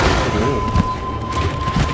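Explosions go off during a Magnamalo hunt in the video game Monster Hunter Rise, a couple of heavy booming thuds over a busy bed of game sound with a steady tone running through.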